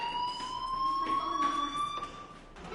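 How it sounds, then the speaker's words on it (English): Electronic fire alarm in the video game Life is Strange, a steady high warbling tone with faint overtones holding through the whole stretch, at moderate level with no talk over it. "Hey, do you hear that fire alarm?"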